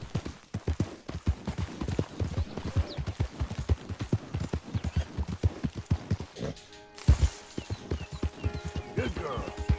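A horse gallops in the Red Dead Redemption 2 video game, with a fast, steady clip-clop of hooves close up and continuous throughout, briefly interrupted near the end, while voices and game sounds murmur underneath.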